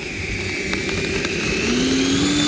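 A hobby-grade RC jet takes off at half throttle, its turbine a steady, loud whine with a rising tone that builds in intensity near the end, alone with no talk.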